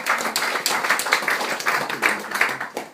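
A community forum audience gives a round of applause: steady, dense clapping from a crowd of moderate size, fairly close and even in loudness throughout, with no voices over it.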